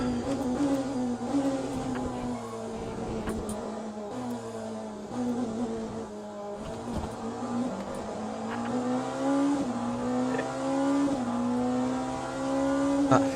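A race car engine in the Le Mans Ultimate racing game drones and revs continuously, its pitch rising and falling as the throttle changes, loud and steady throughout with no talking.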